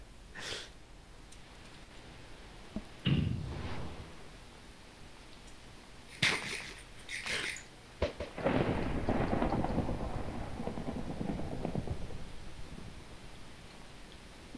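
Thunder from a lightning strike during fierce snow in a video game: sharp cracks followed by a long, loud rumbling roll that slowly fades, with a steady weather hiss underneath.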